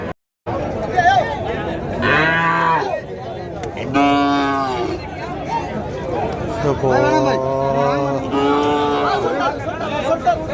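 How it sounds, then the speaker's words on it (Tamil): Calves and cattle at the Madrappalli livestock market give several drawn-out moos and bellows over a steady murmur of crowd chatter, with voices talking throughout. "சின்ன சின்ன கண்ணுக்குட்டி இங்கே ஒன்று அங்கே ஒன்று இருக்கு பாருங்க"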